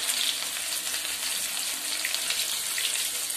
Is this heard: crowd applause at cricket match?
no